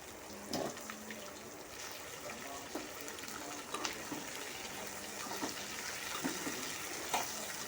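Chopped okra sizzling with onions in a pan, a soft steady frying hiss with occasional scraping stirs and light clinks, faint and close.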